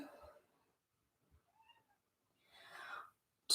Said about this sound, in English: as I let the cat in